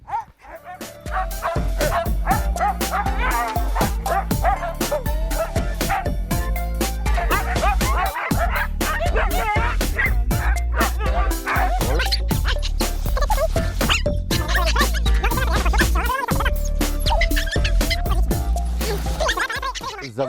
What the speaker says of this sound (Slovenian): Mi uporabljamo sibirske haskije.